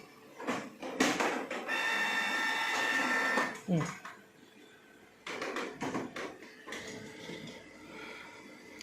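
A Canon Pixma IP2770 inkjet printer runs nearby, with a sustained mechanical whirr and clattering paper feed in two main stretches between quieter clicks, while someone talks over it.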